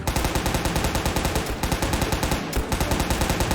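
RPK light machine gun firing in a Soviet soldier video game, a rapid sustained stream of shots in a regular rhythm with a brief pause midway, loud and dense.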